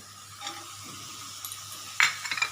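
Peanuts tipped into a sizzling pan of onion and rice dish, with a steady soft sizzle, faint stirring scrapes and a few sharp clinks of nuts and utensil against the pan near the end.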